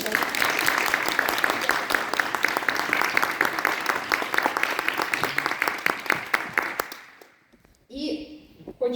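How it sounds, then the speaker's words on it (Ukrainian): An audience at a music and poetry evening in a Ukrainian war museum applauds in a dense, steady burst of clapping that thins out and fades near the end, followed by a short bit of speech. "Оплески."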